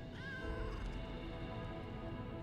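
A cat in the video game Lies of P gives a short, rising meow early on, nearly buried under a dense, steady wash of game music and ambience.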